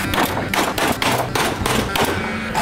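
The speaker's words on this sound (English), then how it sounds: "give us a lesson on how to use a nail gun" Nail gun fired while building a nano fish tank setup, giving a rapid series of loud, sharp bangs and thuds at close range, about five to six shots in under three seconds over a noisy background.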